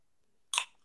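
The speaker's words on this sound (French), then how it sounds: "Est-ce que tu peux arrêter de mâcher le chewing-gum?" Gum is chewed close to the microphone in one brief, crisp, wet mouth sound against near silence.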